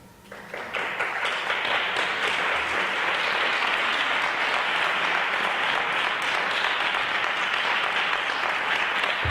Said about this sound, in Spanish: No aplaudan muy fuerte, que hay algún dormido por ahí.